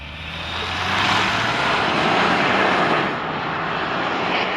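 A 2025 Hyundai Santa Cruz XRT with a 2.5-liter turbo four-cylinder accelerates hard, a loud, sustained broadband roar that swells and holds steady, heard from inside the cabin.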